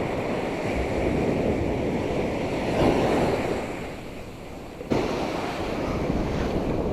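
Steady roar of surf and waves washing in on the Black Sea coast at Karasu, Turkey, during spin fishing, with wind buffeting the microphone throughout; a louder wave swell rises near the middle.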